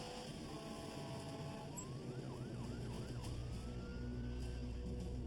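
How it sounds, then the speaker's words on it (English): Emergency vehicle sirens wail and yelp as crews respond to the Asiana 214 Heavy plane crash at San Francisco, rising and falling sweeps over a steady engine rumble, fairly distant and moderately loud. "Emergency vehicles are responding."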